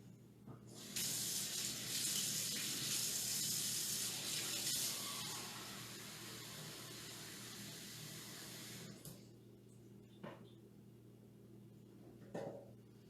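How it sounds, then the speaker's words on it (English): Tepid water, about 1 2/3 cups, pours steadily into a mixing bowl for Italian bread dough, a loud hissing stream for roughly eight seconds before stopping, followed by a few faint kitchen knocks. "So I'm just going to add, we're doing 1 2/3 cups of water."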